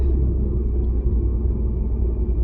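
Citroen DS3 fitted with an upgraded performance intake pipe, driving at steady speed: a continuous low engine rumble and road drone from inside the car, even and unbroken throughout.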